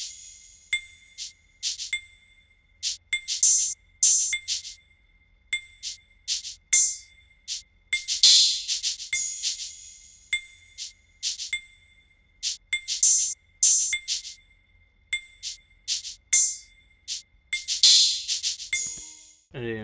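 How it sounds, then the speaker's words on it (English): A dry percussion loop of shaker, hi-hat and triangle taps in a steady, repeating rhythm, crisp and bright with no other instruments. "Just the percussion by itself sounds like this."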